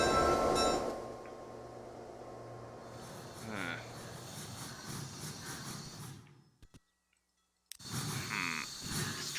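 A model 280 train runs along the line in the Transport Fever 2 video game, an even mechanical rumble with bright layered game sounds. A few seconds of near silence come before the noise picks up again.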